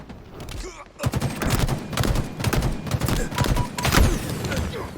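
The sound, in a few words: gunfire in a video game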